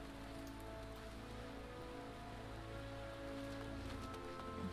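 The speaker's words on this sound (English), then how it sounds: "Poop, it's raining." Steady rain falls in Final Fantasy XIV, a constant even hiss of drops on surfaces that stays level throughout, with low game ambience humming underneath and no voices.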